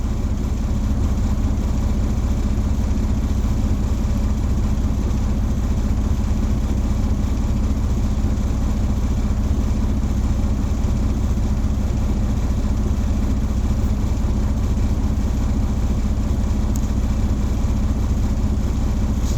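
A truck engine held at high revs toward its governor cutout, a steady, unbroken low drone running for the full stretch without any audible cut.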